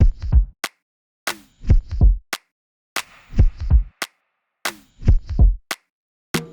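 Sharp electronic claps and snaps in a repeating pattern, punctuated by thumping kick drum hits, playing alone with silent gaps between phrases.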